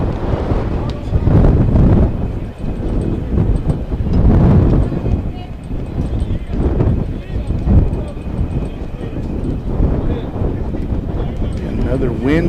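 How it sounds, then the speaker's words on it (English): Gusty wind buffeting a camera microphone at a high school baseball field, a loud low rumble that surges and fades in waves throughout, with a commentator talking over it. "Another windy afternoon here at Steve Castro Field."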